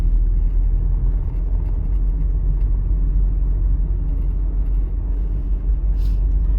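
A car drives through a U-turn during a driving test, with a steady, loud low road and engine rumble inside the cabin throughout and no speech.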